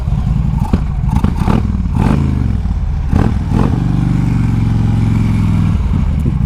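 A Harley-Davidson Street Glide motorcycle rides slowly through a neighborhood, its deep engine thumping steadily and loudly, rising in a few brief throttle pulses before settling into a smooth, even drone.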